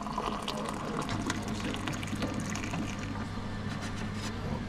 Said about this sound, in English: I'll make the tea for Auntie Apple, hot water, and myself.